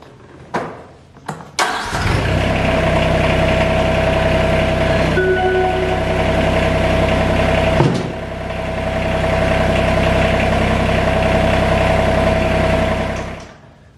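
A TYM R25 compact tractor cranks a few times, fires up and settles into a steady, loud diesel idle nearby, with a brief dip and change in pitch partway through before running on evenly.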